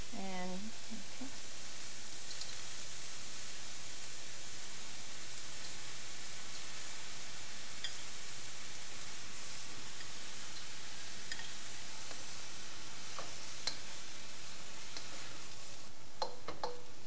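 Rice tipped into a frying pan already holding peas, for a pineapple fried rice, sizzles in a low, continuous hiss throughout, with occasional light ticks and scrapes of stirring toward the end.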